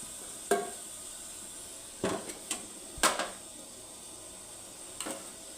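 Green peas and rice frying in a mix of ghee and oil in a home kitchen, a steady quiet sizzle broken by a few sharp clanks of a spoon stirring against the pot.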